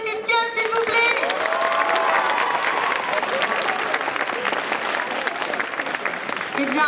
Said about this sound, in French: je veux un tonnerre d'applaudissements pour Etistia, s'il vous plaît